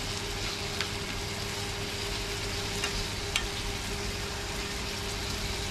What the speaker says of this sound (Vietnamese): mình xào cho con lươn á, cái thịt nó săn lên các bạn